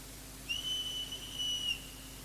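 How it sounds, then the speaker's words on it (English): A single high, thin eagle bone whistle tone sustained for about a second and a half at Wounded Knee, fairly faint against a steady outdoor hiss, with no voices. "the eagle bone whistle blows from the haunted hill of Wounded Knee"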